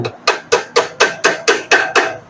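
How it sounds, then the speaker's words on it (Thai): Steady metallic hammer blows on a motorcycle wheel axle nut during a tire change, eight sharp, evenly spaced strikes about a quarter second apart, close and loud with no talk. "แล้วก็ตอกนี้เลย"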